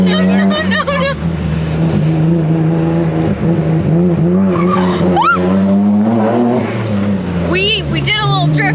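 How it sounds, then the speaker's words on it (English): An RB25-swapped C4 Corvette drifting on the street, tires squealing and engine revving loudly and continuously, with excited voices talking over the noise. "We did a little drift right there."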